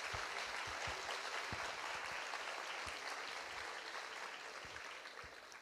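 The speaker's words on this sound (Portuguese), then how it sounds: "Eu gostaria de uma salva de palmas aos nossos convidados." A crowd at a university debate applauds steadily, a dense patter of clapping from many hands that fades slightly toward the end.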